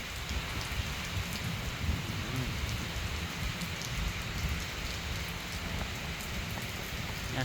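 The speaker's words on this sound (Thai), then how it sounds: "เป็นบรรยากาศที่ฝนตกนะครับ ลมก็พัดแรงนะครับ" Steady, dense rain hisses and patters without a break in strong wind, a constant wash of noise close by with no voices.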